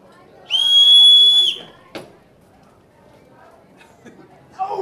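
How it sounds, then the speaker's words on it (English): A captain's whistle at a pirate show gives one loud, shrill, sustained blast lasting about a second, followed by a thump and quiet crowd murmur. "when I blow my whistle"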